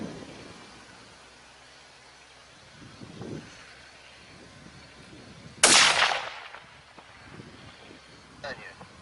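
A Remington 700 XCR rifle fires at a steel gong 300 metres away, producing one sharp, loud crack with a short decaying tail amid wind noise, with people talking before and after.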